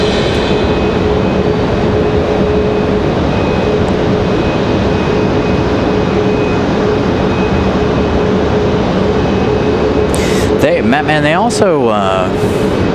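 An Airbus A220-300 airliner arrives at Raleigh-Durham airport, its engines a loud, continuous broadband roar that holds steady before shifting and sweeping in tone near the end.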